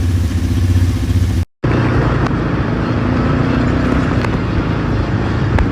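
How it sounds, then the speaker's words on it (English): ATVs ride on a mountain tour near Antigua, Guatemala. A loud, steady engine drone fills the whole stretch, broken only by a brief dropout early on, with no voices. "And so next we're gonna just ride the ATVs."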